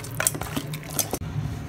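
Quail pieces being mixed by hand with turmeric, chili powder, salt and oil in a bowl, giving soft wet squishing and a few light clinks of the dish, close up with no talking.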